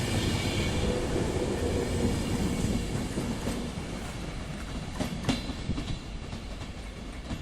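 A train bound for central London rumbles past up close below a footbridge, steady and loud, with rhythmic clickety-clack of wheels and occasional metallic squeals over the roar.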